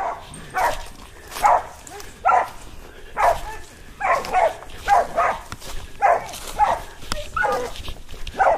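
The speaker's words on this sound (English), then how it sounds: "try to yell at your dog" A dog confronting a rabid raccoon, barking in a steady run of sharp, loud, close barks spaced about half a second apart, with faint background noise between them.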